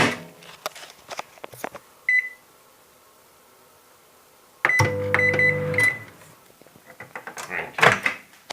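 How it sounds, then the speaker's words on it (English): A microwave oven with a phone placed inside: short beeps, then a steady hum with a door clunk and a final beep, between stretches of talk in a room. "we're going to put it in the microwave now."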